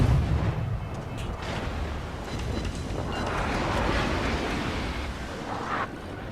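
Naval guns fire shells in the World of Warships game, a heavy booming blast at the start followed by a long rolling rumble and whooshing roar of shells in flight, steady and loud throughout.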